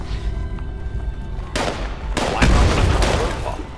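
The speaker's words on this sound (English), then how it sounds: "She's in a room shooting things and throwing grenades." Gunfire and grenade blasts from Fallout 76, with rapid broadband bursts erupting after a steadier rumbling bed, loud and close, with a voice talking over parts of it.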